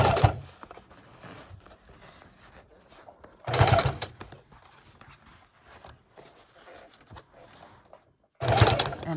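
Sewing machine straight-stitching fabric onto a file folder runs in three loud bursts of rapid mechanical whirring, separated by quieter stretches of handling and rustling.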